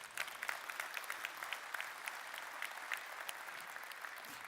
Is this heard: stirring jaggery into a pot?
no